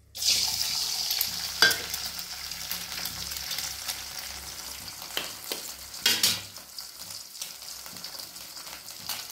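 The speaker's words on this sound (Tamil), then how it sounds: "இப்போ முட்டை உடச்சி ஊற்றிடலாம்." Eggs cracked into a hot pan for spicy egg paneer fried rice, sizzling and frying at a moderate level, with occasional scraping stirs and clinks over a steady hiss.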